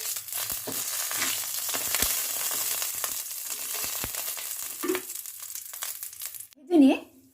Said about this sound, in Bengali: ফোড়নটাকে একটু নাড়াচাড়া করে নিচ্ছি।